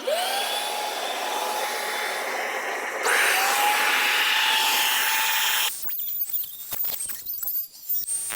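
A router cuts a groove into a wooden workbench shelf while a shop vacuum roars alongside, a steady loud whine that shifts pitch partway through, then drops off into clattering handling noises.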